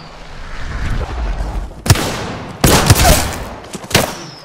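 Gunfire in a first-person squad shooter game: a few sharp, loud shots in short bursts, separated by brief pauses over a low rumbling background.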